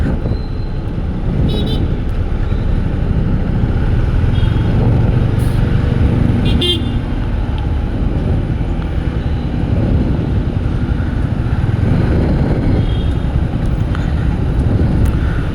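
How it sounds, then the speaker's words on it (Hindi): Heavy city traffic in Delhi heard from a Yamaha XSR 155 motorcycle, a dense continuous rumble of engines with occasional horn-like tones, loud and steady throughout. "देखो भाई बहुत ट्रैफिक है यहाँ, तो बहुत गंदा ट्रैफिक है।"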